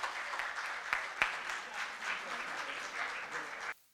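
Moderate audience applause welcomes a professor and doctor onto a stage at a formal gathering, steady clapping with a couple of sharp claps standing out before it cuts off abruptly.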